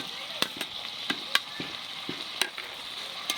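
Fried kohlrabi and potatoes going into a pan of chicken and being fried together, with a soft underlying sizzle broken by repeated sharp spatula knocks and scrapes at an uneven rhythm.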